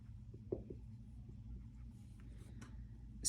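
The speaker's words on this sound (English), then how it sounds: "So I'm going to go ahead and write it on the board since I ran out of space." Marker or chalk writing on a board in a calculus lesson, with faint scattered taps and short scratchy strokes over a low room hum, then a louder noise right at the end.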